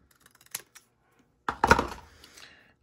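Cardstock cut in half for a handmade birthday card: a couple of small clicks, then a crisp slicing cut with a short rustling tail, close and quiet.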